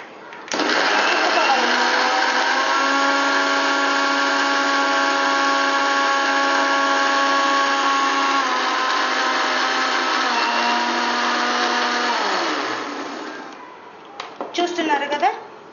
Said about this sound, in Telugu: మళ్ళీ ఒక మారు గ్రైండర్ని